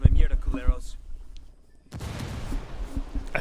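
A frag grenade bursts in the video game Ghost Recon Wildlands with a sudden heavy boom and a noisy, rumbling tail that lingers. A voice speaks just before it, followed by a brief lull.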